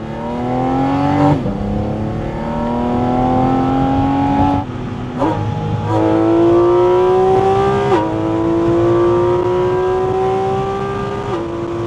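A powerful Porsche engine revs loudly and steadily, air intake roaring, pitch climbing through several gear changes with brief dips between shifts, close and continuous.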